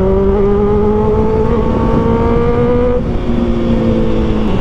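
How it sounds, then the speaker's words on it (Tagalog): A 2024 Kawasaki ZX6R motorcycle screams through its exhaust while riding, a loud, steady high-pitched engine whine holding pitch with a slight shift partway through, alongside wind rush. "Sobrang screamer niya na malaki tunog. Ganda ng tunog talaga ng exhaust niya."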